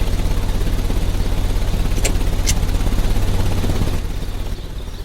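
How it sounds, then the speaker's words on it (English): A machine engine in Sherlock Holmes: Crimes & Punishments runs with a steady, loud low rumble and throb, two short bright clanks midway, easing slightly near the end. "The engine has started."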